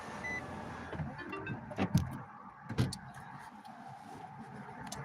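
Power windows on a parked car whir faintly as the glass moves, with soft clicks and a couple of sharper knocks inside the cabin over quiet background hum.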